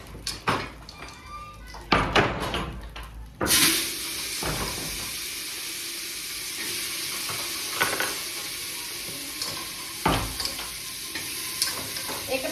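Whole coriander seeds and pumpkin sabzi fry in hot oil with a steady sizzling hiss, broken by sharp scraping and clanking stirs of a ladle against the pan, close and loud.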